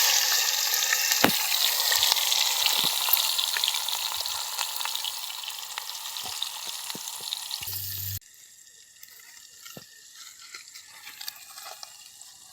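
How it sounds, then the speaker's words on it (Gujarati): Chopped chilli, onion and tomato hitting hot oil in a pan for a garlic curry, setting off a loud, dense sizzle with a few clinks, which drops sharply to a quieter crackle after about eight seconds; no talk. "હવે મિત્રો, તેલ આવી ગયું છે, તો તેમાં મરચું, ડુંગળી અને ટમેટું તેને કાપી અને નાખી દઈશું."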